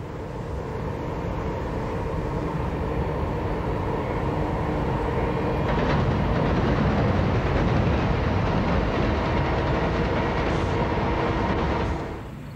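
A train rolls along the railroad line between Danville, Kentucky and Oakdale, Tennessee with a loud, continuous rumble and clatter, holding steady for several seconds before easing off.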